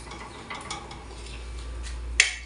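Dried fish (shutki) being stirred and fried in a pan, with soft scraping and faint sizzling, light clinks of utensil on metal, and one sharp clack near the end, quiet and close.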